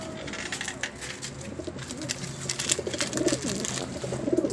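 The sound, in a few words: birds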